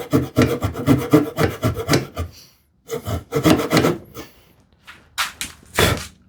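A freshly sharpened hand saw cuts through wood in quick bursts of rasping back-and-forth strokes, several clear runs separated by short pauses, close and loud with no talk.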